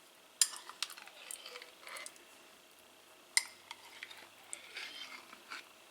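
Apricot preserves are stirred into a pan of chicken, a spoon scraping and clinking against the metal in a few scattered strokes over a faint sizzle, quiet and close.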